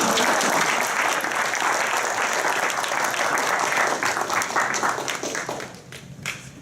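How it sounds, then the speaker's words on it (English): Crowd applause for the green team at a pitch challenge event in Tampa, loud sustained clapping from many people that fades out near the end, with a faint voice underneath. "Give the green team a round of applause."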